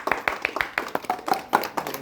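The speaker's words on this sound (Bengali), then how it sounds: "আপনাদের সবাইকে আবারও ধন্যবাদ জানিয়ে একটু জোরে করতালি দেন" A small group claps at a home birthday gathering, about a dozen quick uneven hand claps over two seconds, close and fairly light, with faint voices in the background.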